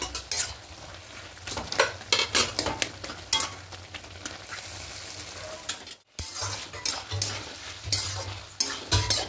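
A spoon stirs fish head and spinach curry in a pan, giving repeated scraping and clinking strokes over a faint sizzle, close by, with a brief pause near the middle.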